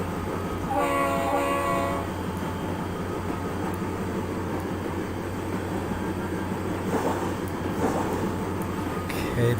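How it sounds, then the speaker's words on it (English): A Santa Fe 5399 locomotive in a train simulator game rumbles steadily with a low engine drone, and a horn sounds briefly near the start over the continuous rail noise. "Okay, that's our train right there."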